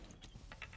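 A weapon magazine change in Rainbow Six Siege on PS5: a quick, close mechanical click-and-ratchet of the reload, lasting under a second and heard alone.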